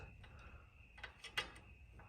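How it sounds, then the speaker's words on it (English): Wrench loosening set screws on a garage door spring, faint metallic clicks and ratcheting ticks in a short irregular sequence against quiet room noise. "undo this set screw and this set screw. In my case, 10 millimeter wrench is going to be the perfect size."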